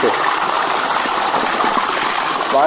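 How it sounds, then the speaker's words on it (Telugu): Steady rushing water pours and splashes nearby from a Nandi-mouth spout at Bugga Ramalingeswara Swamy Temple, Vikarabad, a constant gushing flow with no pauses. "ఇది మొత్తం వాటర్ వచ్చేసి ఈ నందీశ్వరుని మూతిలోంచి వచ్చేస్తాయి"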